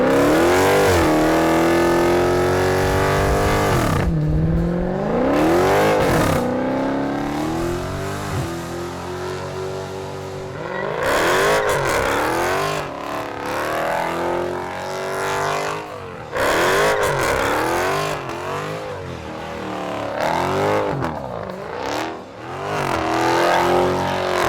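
A Dodge Challenger SRT engine revs hard while driving, loud and close, with repeated rising and falling throttle bursts and gear-change dips throughout, no voices over it.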